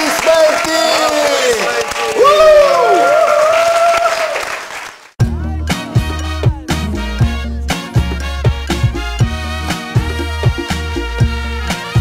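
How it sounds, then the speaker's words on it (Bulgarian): A television show studio audience breaks into loud, sustained applause and cheering for about five seconds, then a rhythmic music track with a heavy beat takes over. "Аплодисменти!"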